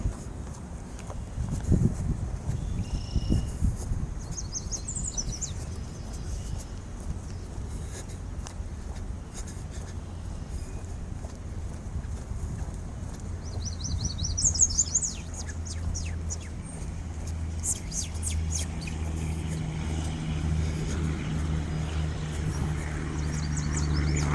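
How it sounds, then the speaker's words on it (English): Birds chirp and trill at intervals over a steady low rumble of distant traffic, growing busier toward the end, on a trail beside a landfill in Kent County, Michigan, on a hot cloudy May day. "The birds are really happy today."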